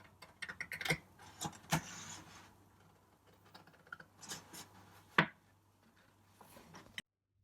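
Children's scissors snip through paper while a crown shape is cut out, with soft, scattered clips and rustles up close and sharp snips now and then, quiet overall with pauses between cuts.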